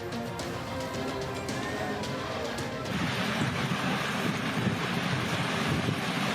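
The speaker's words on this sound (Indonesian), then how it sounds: "Video amatir warga merekam angin puting beliung yang menerjang permukiman Desa Bugis" A tornado's wind roars across a village settlement in Desa Bugis, a dense, continuous rushing noise that grows heavier partway through, with no voices.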